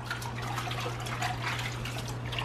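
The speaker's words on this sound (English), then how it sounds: "I use this gallon of water is so that I can wring my towel out" Water trickling and dripping as a damp shampoo towel is wrung out into a gallon jug of fresh water during a car interior leather detail, a steady close wet patter over a low constant hum.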